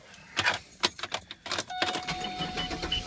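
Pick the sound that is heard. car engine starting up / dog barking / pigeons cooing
car engine starting up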